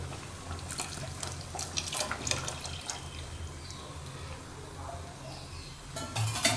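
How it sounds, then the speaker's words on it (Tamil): Half a litre of cooled boiled milk is poured into a pot of semiya javvarisi payasam, making a continuous close splashing, gurgling stream that grows louder toward the end. "நான் ஒரு 1/2 லிட்டர் பால் சேர்த்துக்கிறேன்."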